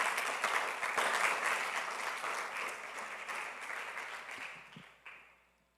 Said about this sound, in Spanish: ¿Me acompaña con un aplauso al Rey,